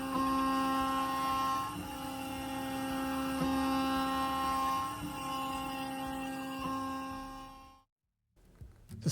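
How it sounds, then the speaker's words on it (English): A CNC mill cuts an aluminum rocket fin with a 1/4 inch ball end mill, a loud steady whine with strong tonal hum and occasional chatter that cuts off abruptly near the end, followed by brief quiet and faint clatter. "The second milling operation uses a 1/4 inch ball end mill to fully form the surface profiles."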